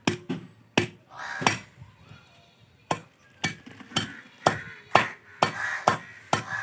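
A heavy knife chops a large fish into pieces, about a dozen sharp whacks landing at an uneven rhythm with brief pauses between, close and distinct against quiet surroundings.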